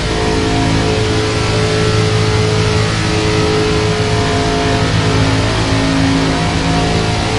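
Race car engine in the NASCAR 25 video game, played on a steering wheel: a continuous loud, buzzing roar at high revs that holds steady throughout.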